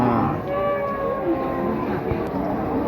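Cattle at the Wirosari livestock market moo in a long, low, drawn-out call close by, over a steady background of market crowd noise.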